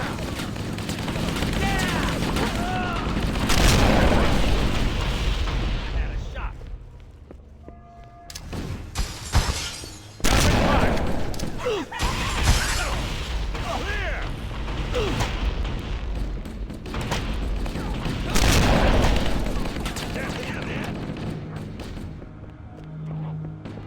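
Repeated grenade blasts and bursts of gunfire from the Cursed Halo shooter game, loud and dense with brief lulls, with voices talking over the combat.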